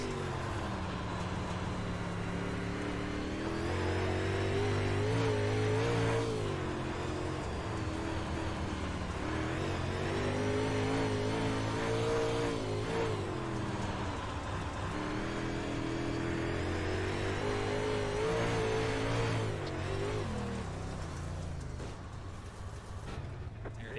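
358 Mod race cars roar around Fairbury Speedway in a continuous layered engine drone, pitch rising and falling as they circle the track, moderately loud throughout without clear speech.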